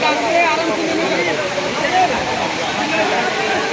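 Waterfall at Khoiyachora, a steady broadband rush of falling water filling the scene, loud and continuous with no pauses.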